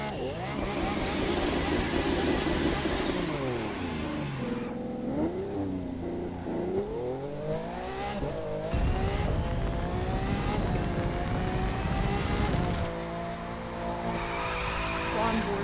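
A Lamborghini in the video game The Crew 2 drives hard and skids, its engine rising and falling through gears while tires squeal in long slides. It stays loud and close throughout.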